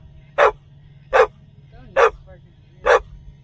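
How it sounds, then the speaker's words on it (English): A dog barks four times at even intervals, sharp and close, with quiet pauses between. "Are you barking at me?"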